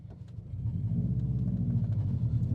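A 2005 Subaru STi engine drones steadily while driving, a low continuous rumble that swells slightly after the first half second and holds loud and close throughout, with no talking.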